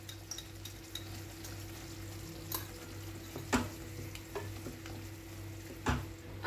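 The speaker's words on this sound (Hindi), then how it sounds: "अब इसको हम अच्छे से मिक्स कर देंगे।" A spoon stirs chicken curry with mustard and yogurt paste in a pot in an Odisha-style home kitchen. A quiet, steady sizzle runs under a low hum, broken by a few faint scrapes and clinks of the utensil against the pot.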